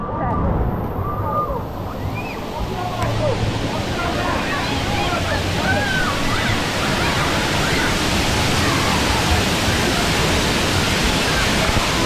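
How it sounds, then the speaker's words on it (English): Wave pool at Wild Waves water park in Federal Way, Washington, on an afternoon: a loud, constant rushing wash of water mixed with a busy murmur of crowd voices and distant shouts. "Now here is what the wave pool looks like at 3 o'clock in the afternoon."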